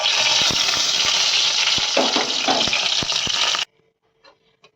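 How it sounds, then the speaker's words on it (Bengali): A bay leaf, two dried chillies and whole cumin crackle loudly in hot oil for a chicken and potato curry, a dense bright sizzle with a few clicks that cuts off abruptly into near silence. "একই তেলে ফোড়নে দিচ্ছি একটা তেজপাতা, দুটো শুকনো লঙ্কা,"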